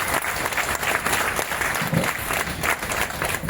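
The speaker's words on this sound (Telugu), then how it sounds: "వీలైతే ఒకసారి గట్టిగా క్లాప్స్ ఇవ్వండి." Lively applause from an audience at a business meeting fills the whole stretch, dense and even, with a crowd murmur and a hint of voices beneath the clapping.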